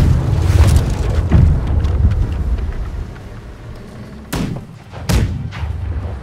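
Naval cannons fire in the pirate-ship game Blackwake, with loud, rumbling booms rolling over one another and two sharper blasts standing out near the end.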